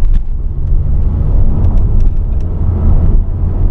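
A car is driven on a sunny day with a low, steady road rumble up close, a few faint ticks and clicks over it, and no talking.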